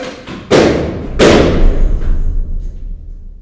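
Two sharp gunshot-like bangs ring out about half a second apart, loud and close, each with a short decaying tail, followed by a low rumbling thud in a binaural 3D audio drama.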